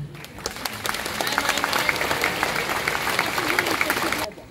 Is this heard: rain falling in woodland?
no